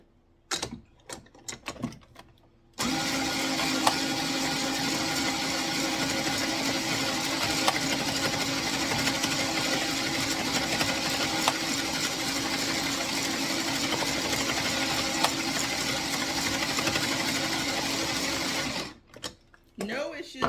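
An Addi circular knitting machine driven by a screwdriver attachment whirs in a steady, loud mechanical run with fast clicking for about sixteen seconds, bracketed by brief handling noises at the start and end.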